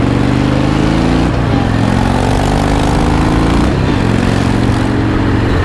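A Harley Dyna motorcycle engine runs steadily while riding, a loud continuous low rumble with harmonic drone that shifts briefly around a gear change or throttle dip, close and alone without talk.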